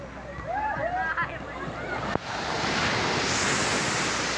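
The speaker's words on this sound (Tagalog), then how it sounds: "So dyan lang po yung alon." Sea waves wash onto a beach in Northern Samar, a broad steady surf roar swelling louder over wind noise after brief talk at the start.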